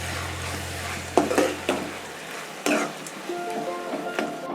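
Raw mango rava pulihora being stirred in a pan, with a few sharp scrapes and clatters of the spoon against the pan over a soft background hiss.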